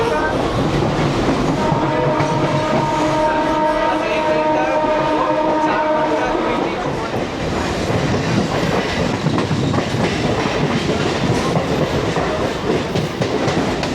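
A Howrah to Digha local train runs along the line with a loud, continuous rumble and rattle of wheels on track, while a horn-like tone sounds over the first several seconds before fading into the steady roar.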